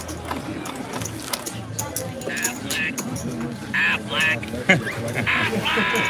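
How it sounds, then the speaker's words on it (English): A duck call sound effect plays during a live poker stream, with several short honking quacks scattered through steady talk and background chatter. "We need a duck call."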